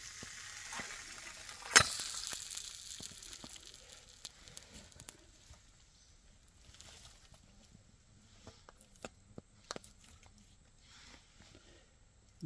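Food searing in a pan on a camp stove outdoors during a rainy day hike, a faint, low sizzle punctuated by sharp clicks and ticks, with a sharper crackle early on.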